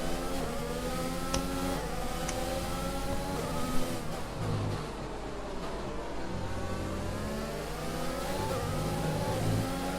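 Racing car engines in a racing video game, a continuous mid-pitched drone with rising and falling revs as several cars pass, steady and moderately loud with no talking.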